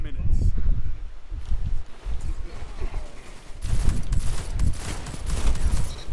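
Video game gunfire bursts through in a busy firefight mix, with rapid shots in the latter half over rustling and footsteps, and players talking throughout.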